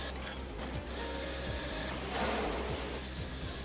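A CRT panel glass vacuum cleaning station strips the steel mask and fluorescent powder, giving a steady mechanical hiss and suction roar with faint periodic clicks and ratcheting, continuous throughout.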